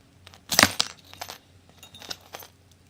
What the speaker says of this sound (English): And then you just take the pliers and cut it in half.